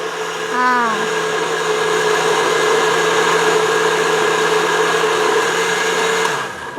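A kitchen blender whirs loudly and steadily while processing chicken meat, a sustained close motor drone with a brief pitch shift near the start and a wind-down at the end.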